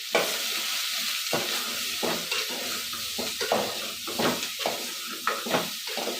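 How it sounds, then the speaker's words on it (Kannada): Bottle gourd pieces fry in a pan for sambar with a steady loud sizzle, while a spoon scrapes and stirs through them in irregular strokes. "ಈ ತರಕಾರಿ ಚೆನ್ನಾಗಿ ಫ್ರೈ ಆಗಿದೆ"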